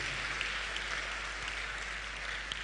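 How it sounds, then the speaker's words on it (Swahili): A church congregation at a New Year service applauds, a steady wash of many hands clapping continuously, somewhat distant and moderately loud, with no speech over it. "Yesu makofi mengi mengi kabisa."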